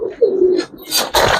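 Giribaz pigeons of an old-generation line coo in a close, wavering run of low calls, followed by bursts of brighter chirps and fluttering noise near the end.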